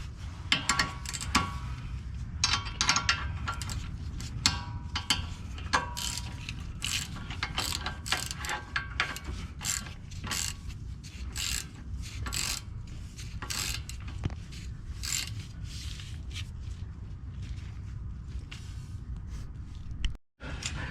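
A hand wrench ratchets on a suspension bolt during a 2-inch AVID lift install on a Jeep Renegade. Dense, steady clicking runs close and loud for most of the stretch, then cuts off briefly near the end.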